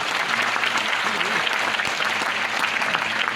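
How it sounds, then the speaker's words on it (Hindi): Loud, dense applause from a large indoor audience at an anniversary motivational seminar, continuous clapping filling the whole stretch with no break. "जोरदार तालियां होने के लिए।"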